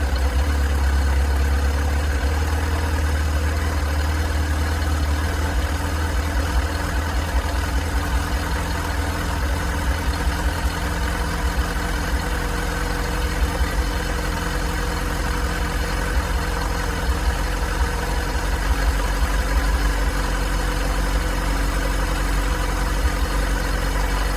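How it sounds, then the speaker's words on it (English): A Yamaha FZ6 motorcycle engine idles at about 1250 rpm, holding a steady, even low rumble throughout with no voices. "We've now adjusted the idle speed on my Yamaha FZ6."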